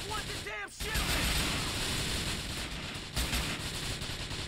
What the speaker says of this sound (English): This fucking guy keeps shooting at me.